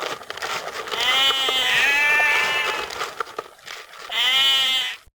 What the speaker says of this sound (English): the Garlands had been using the Turners' property to graze their sheep